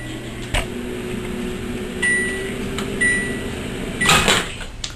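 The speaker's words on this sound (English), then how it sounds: "Insert this in the microwave for 2 minutes" A microwave oven runs with a steady low hum while dry handmade pasta heats inside, broken by a few soft clicks and bumps and a brief beep-like tone near the end.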